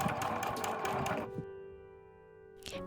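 A domestic sewing machine stitches bias binding onto a ruffled tablecloth in a quick rapid burst for about a second, then stops, leaving a low steady hum and a soft click.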